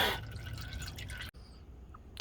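Manual transmission fluid from a six-speed 11th-generation Toyota Corolla drains from the plug hole into a collection pan, a steady close liquid patter that stops abruptly near the end, followed by a few faint drips.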